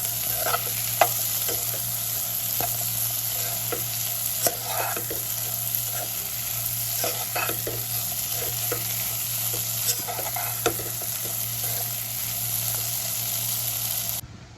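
Raw plantain with curry leaves frying in a pan, a constant close sizzle under repeated light scraping and clinking stirs that keep an irregular rhythm throughout, then stop abruptly at the end.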